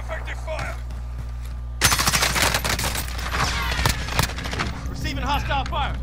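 Video game gunfire erupts in rapid bursts of automatic shots, loud and close, layered with overlapping firefights and a player's voice shouting over the shooting.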